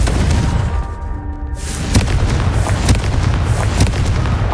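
A Confringo spell blast in Hogwarts Legacy booms out of a dense game soundscape, followed by several sharp bursts and repeated impacts against a constant low rumble.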